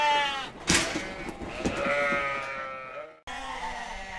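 Sheep and lambs bleating on a farm, several loud close calls overlapping in quick succession, one long cry trailing off before a brief pause and another bleat.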